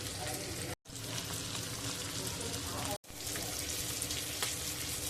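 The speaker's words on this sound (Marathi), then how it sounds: "पुन्हा आपण आता खालच्या बाजूने देखील 3-4 मिनिटं फ्राय करून घेऊया" Lady fish coated in homemade spices fry in a pan, the oil sizzling loudly and steadily close up, with two very brief dropouts in the sound and no talking.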